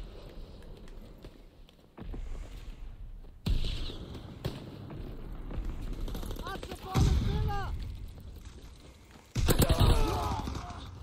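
A grease gun submachine gun fires in Call of Duty WW2 online play, with short bursts of gunfire and other shots scattered through the match, with game sounds and a player talking over them.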